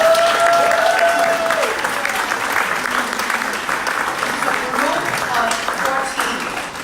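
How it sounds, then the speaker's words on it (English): A crowd claps steadily and loudly throughout, with voices briefly heard at the start. "I want you guys to get a big round of applause."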